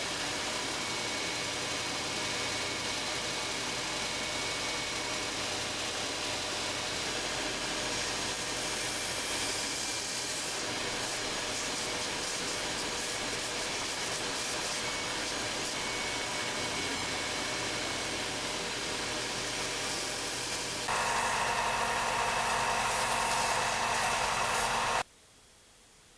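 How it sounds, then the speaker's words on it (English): Grinding steel from a 1948 Mercury leaf spring into a deba knife, a continuous loud, steady abrasive whine and motor roar running for about 25 seconds before stopping abruptly, with no talking. "I'm going to keep grinding on that side"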